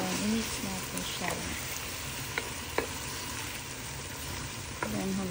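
Ground beef sautés in a pan for beef congee, a steady close sizzle with occasional clicks and stirring scrapes, while a person talks over it.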